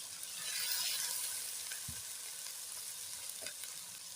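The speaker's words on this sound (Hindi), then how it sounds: "टमाटर ऐड कर लेते," Tomatoes sizzle and fry in hot ghee for an aloo and white chana curry, a steady bright hiss with a brief stir or clink near the middle, heard close up with no talking.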